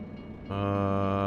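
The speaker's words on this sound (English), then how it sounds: "Maybe a decent sized train." A train in American Truck Simulator on a Wyoming route, shifting at about half a second from a low rumble to a loud, steady horn-like harmonic drone that holds to the end, close and without talk.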